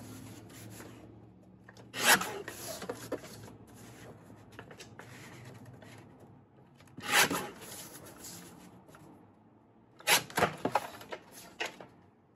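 Paper is trimmed for a collage background page in a travel journal, giving three separate bursts of scraping, rasping cuts against a quiet background, close and moderately loud.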